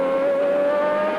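A white and green Lotus Formula One car with a Judd V8 engine screams past at the 1991 Hungarian Grand Prix, a loud, sustained high-pitched engine whine holding almost steady pitch, with no talk over it.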